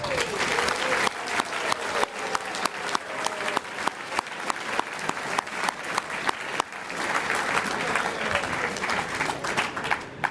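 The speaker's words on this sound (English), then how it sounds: "let's give the the teacher coaches a big round of applause" Sustained applause from a banquet audience at a boys' volleyball tournament celebration, steady dense clapping throughout with occasional louder individual claps, no voices over it.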